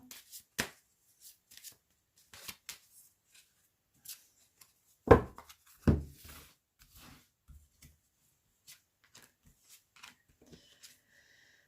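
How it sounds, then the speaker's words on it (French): Tarot cards being drawn from a deck by hand, a run of soft, scattered card flicks and slides close by, with two louder rustling bursts midway and quiet pauses between. "je vais retirer encore 2 cartes"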